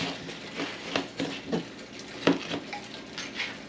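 A knife chopping deer meat into cubes on a board, with several irregular, close, soft thuds and scrapes spaced apart, over a quiet room background.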